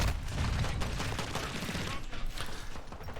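Rapid gunfire from a Lachmann Shroud burst-fire weapon in a shooter game, dense overlapping shots rattling continuously and loudly throughout.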